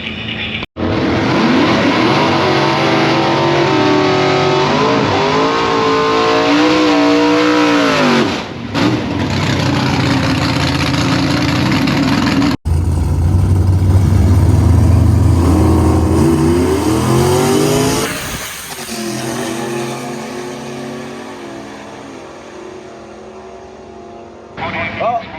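Drag race car held on a trans brake at a Rock N Race event, loud engine revving with rising and falling pitch, then launching and accelerating hard down the strip, staying loud throughout with a break midway.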